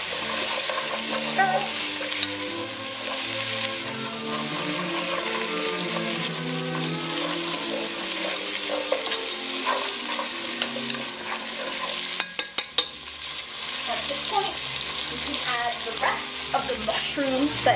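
Mushrooms in oyster sauce sizzle and fry in a pan while being stirred and tossed, a steady crackling hiss with scraping and shuffling, and a brief clatter partway through.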